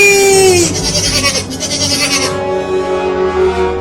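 A cartoon goat gives a loud, close, wavering bleat lasting most of the moment, with no talk over it.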